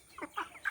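Chickens of fancy breeds clucking in a short, faint burst of three quick clucks close by.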